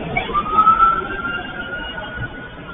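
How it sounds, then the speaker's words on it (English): Police siren wailing during an early-morning vehicle pursuit through Houston streets near Wayside Drive and Canal Street, a single sustained tone gliding slightly, moderately distant over steady low traffic rumble. "Sirens can be heard"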